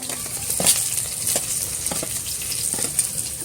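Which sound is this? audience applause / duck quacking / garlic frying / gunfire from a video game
garlic frying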